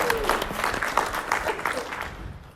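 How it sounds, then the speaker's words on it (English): Small audience applauding two volunteers at a language teaching demonstration, a moderate patter of clapping with some crowd noise, tapering off toward the end. "All right, round of applause,"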